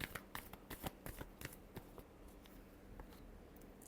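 Tarot cards being shuffled by hand, with a quick run of crisp riffling flicks up close before settling into a soft, faint rustle.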